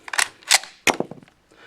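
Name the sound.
Lee Enfield stripper clip kicked out as bolt closes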